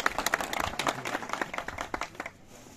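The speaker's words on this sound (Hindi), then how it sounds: "हम तहे दिल से तालियों के साथ यहाँ पर मेहमान का स्वागत करते हैं।" An audience at a block day celebration at a high school applauds to welcome guests. The clapping is dense and uneven, then thins out and stops near the end.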